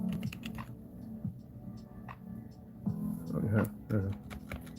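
A computer keyboard is typed on in quick irregular clicks and taps, close but soft, under a low background hum with people talking over it.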